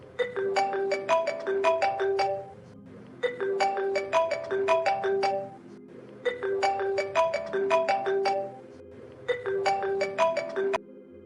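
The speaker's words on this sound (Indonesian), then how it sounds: "Tiba-tiba ponselnya berdering." A mobile phone ringtone plays a bright repeating melody in four even bursts with short pauses between, clear and close with no voices.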